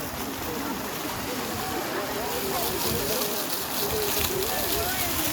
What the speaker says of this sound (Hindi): ये देखिए खूबसूरत फवारा, खूबसूरत फवारा है